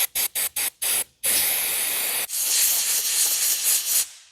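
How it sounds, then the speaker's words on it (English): Electrical contact cleaner sprays onto a part on a supercharged Corvette, first in several short pulsed bursts and then in a long steady loud hiss close by, with no voices. "we want to clean this with electrical contact cleaner"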